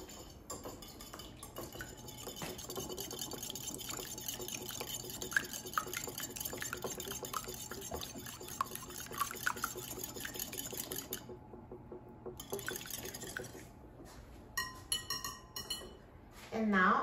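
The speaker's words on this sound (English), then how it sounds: "And whisk the eggs." Two eggs are whisked in a bowl for cake-mix cookies, a fast, steady clinking and tapping of the whisk against the bowl, close and moderately quiet, with no talking over it.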